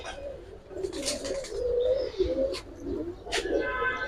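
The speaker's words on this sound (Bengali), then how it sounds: "নটটা লাইট কালারের গেন্দা দেখেন একবারে ডাউন শেপের কবুতর" Pigeons coo in low, rolling phrases, among them a light-coloured, stocky Gola-type pigeon on sale at a market, with faint chirps and scattered higher noises mixed in.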